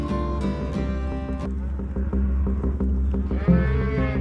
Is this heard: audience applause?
no